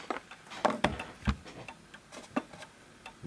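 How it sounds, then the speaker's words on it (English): A vintage Napoleon hat Westminster chime mantel clock ticks quietly up close, with a steady run of soft, evenly spaced ticks and no voices. "I'm going to let you listen to the ticking so you can hear the ticking."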